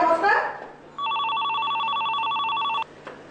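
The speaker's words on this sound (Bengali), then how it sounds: "ফোন বাজে" A telephone rings with a near, loud electronic trill lasting about two seconds, starting after a short spoken line and ending abruptly, with faint room noise after.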